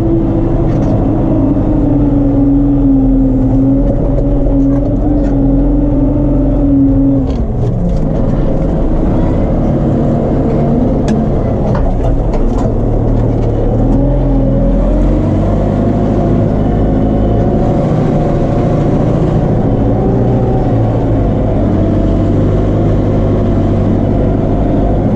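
A Case JX110 tractor ploughing a wet wheat field drones loudly and steadily for the whole stretch, its engine pitch dipping and shifting midway as it labours under load.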